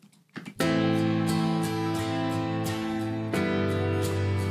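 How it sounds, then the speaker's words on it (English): After a brief soft bit, full chords ring out steadily from a piano and guitar playing together, panned to opposite sides, no speech. "And now if we play both of them at the same time, they should each be in separate ears."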